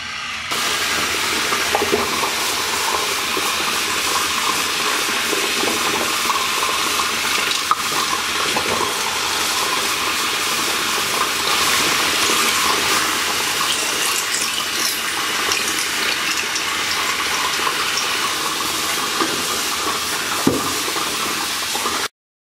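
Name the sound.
Smart Toiletries water flosser running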